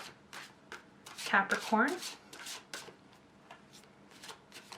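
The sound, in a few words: tarot cards being shuffled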